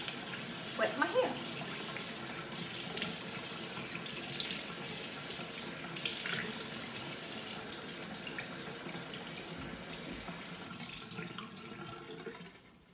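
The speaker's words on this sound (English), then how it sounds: "turn the water on" Tap water runs steadily from a faucet while hair is being wetted, a continuous close splashing rush that fades out at the end.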